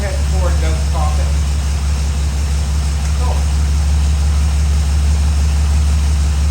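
Old flathead Ford engine idling steadily in a Fargo truck, a loud continuous low rumble throughout with brief voices over it.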